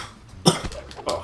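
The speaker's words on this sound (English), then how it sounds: "Oh, God, cough." A single sharp cough from a person, close and fairly loud, bursting out briefly amid faint background noise in a Sly Cooper Thieves in Time gameplay session.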